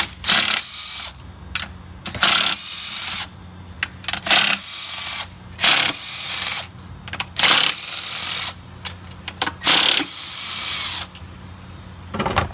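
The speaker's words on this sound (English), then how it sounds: "just use a 12 millimeters socket and wrench and ratchet wrench" Ratchet wrench with a 12 mm socket removing valve cover bolts on an Acura RDX engine, heard as repeated bursts of rapid mechanical clicking separated by short pauses, fairly close, with no talking.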